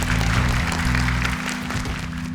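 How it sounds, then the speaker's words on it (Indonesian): Studio audience applause at an Indonesian televised Quran memorization competition, a steady dense wash of clapping with a low musical hum underneath, continuous and fairly loud throughout. "Boleh tepuk tangan."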